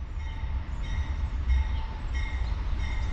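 CSX freight train I158, led by 1998 locomotive 319 in its old lightning-bolt paint, rumbles past close by in a loud, steady roar, with faint tonal whines riding above the wheel noise.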